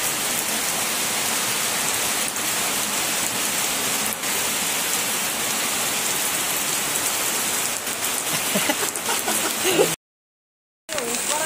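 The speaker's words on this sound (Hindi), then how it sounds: "केही क्षणमा पानी हेभी परिरहेको छ" Heavy monsoon rain pours down in a Nepali village, a dense, loud, unbroken hiss of drops on surfaces that continues for several seconds before a brief cutout.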